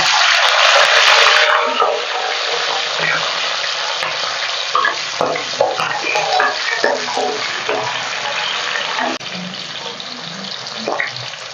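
Loud sizzling of peeled shallots dropped into hot oil for sambar, bursting at first then settling into a steady crackle with scattered pops.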